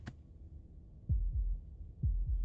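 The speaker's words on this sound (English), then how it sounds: "That was the sound of a heartbeat" Heartbeat in the video game Slay the Princess: deep, muffled thumps in two lub-dub pairs, heard alone against a quiet low rumble.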